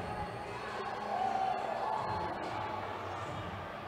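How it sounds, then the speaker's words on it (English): A hockey arena crowd cheers during a backwards ice sled race between periods at a college hockey game, a broad roar of shouts and whoops swelling midway, with a whistle-like tone and distant voices. "And this is getting the crowd on their feet."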